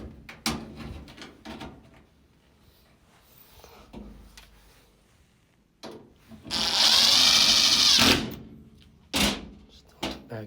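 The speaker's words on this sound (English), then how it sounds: "next thing you wanna do is install these 2 screws in the back." A power drill driving screws into the back of a GE dryer, with one loud sustained whirring burst lasting about two seconds, a shorter burst after it, and clunks and handling noises around them.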